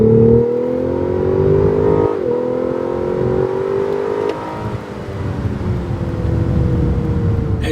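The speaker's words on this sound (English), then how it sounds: "you get that bit of a growl back into the cabin of the vehicle" Lexus LS 500 F Sport engine in Sport Plus mode, a steady low growl heard from inside the cabin of the 2023 sedan, holding gears with a slight drop in pitch midway before building again, continuous and fairly loud.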